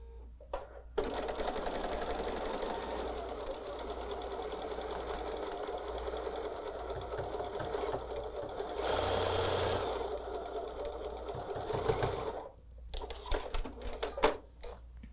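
A sewing machine stitches pinned quilt patchwork pieces together for a Rowan patchwork block, running in a steady, fast, continuous rhythm close by for most of the stretch, then stopping with a few clicks and handling sounds.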